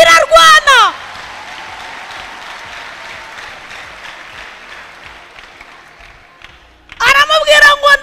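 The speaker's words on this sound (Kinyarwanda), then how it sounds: "komera Imana amashyi" A church congregation breaks into sustained applause and clapping for God, loud and dense throughout, with brief bursts of speech at the start and end.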